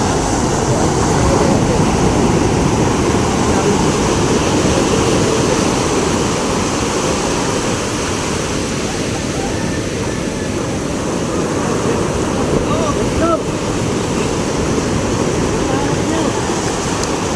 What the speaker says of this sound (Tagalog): Ayan na, may alon na naman sa likod